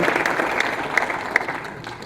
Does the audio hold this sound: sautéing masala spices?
no